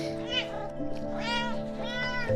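A kitten meows repeatedly, three drawn-out close cries spread across the moment, over a steady low background tone.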